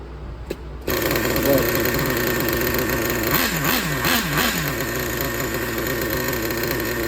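A Traxxas 3.3 nitro RC engine with a cracked connecting rod starts up after a pull start and runs loud and close, a steady buzzing drone with a few revving swells, and it keeps going to the end.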